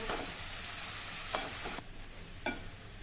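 A ridge gourd dry stir-fry is mixed in a pan, with a steady sizzle of frying broken by two sharp scrapes of the spatula, and no talking.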